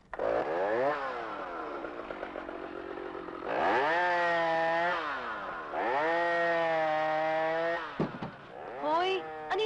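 A 2004 car's engine starts and revs hard in several long, rising bursts, its harsh buzzing note climbing and falling close by, with brief pauses between the revs.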